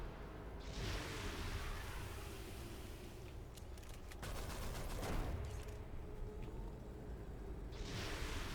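Gunfire in the City of Heroes video game, a dense continuous fusillade of rapid game shots and clatter running throughout, with sharper bursts and loud noise swells, no talk over it.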